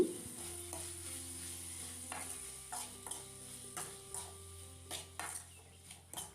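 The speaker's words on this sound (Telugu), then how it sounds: "ఇందులోకి మీడియం సైజ్గా కట్ చేసిన టమాటా ముక్కలు వేసుకుని ఫ్రై చేసుకోవాలి" Medium-cut tomato pieces fry in a pan while a spoon stirs them, repeated scraping knocks punctuating a low sizzle, with soft background music throughout.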